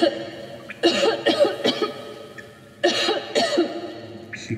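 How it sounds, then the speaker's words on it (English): A woman coughs hard in the video game Metro Exodus, two harsh bursts of several rough coughs each with a short pause between, loud and close. "She coughing so hard."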